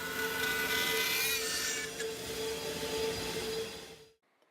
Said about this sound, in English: it is placed back on the CNC to have the top cut out to match the bottom precisely